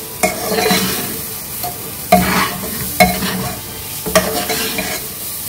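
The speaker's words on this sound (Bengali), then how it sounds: "এটা একটু ফ্রাই করে নেব" Sugar and spices fry and sizzle steadily in a pan, with repeated sharp stirring scrapes every second or so over the continuous hiss, close and fairly loud, during home cooking of pulao.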